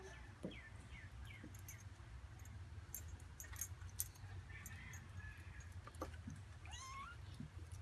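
A cat meows repeatedly in short rising calls, fairly close, over a low background hum, with a few light clinks; the cat is tending her kittens.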